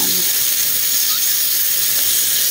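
Pork fat sizzles and hisses steadily in a pan while being rendered for pinakbet, a constant close frying sound with no talk over it.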